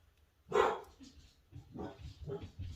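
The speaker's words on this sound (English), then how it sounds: "I don't know why the dogs are barking." Dogs bark indoors, one sharp close bark followed by quieter, muffled barks and yips, all fairly faint overall.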